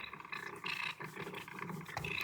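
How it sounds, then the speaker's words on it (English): A cat purrs while eating its food, a continuous rumbling purr close up and fairly loud, mixed with small chewing and mouth sounds. "Listen to her purr."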